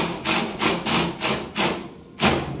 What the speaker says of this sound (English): So now we're securing the 3rd top bolt.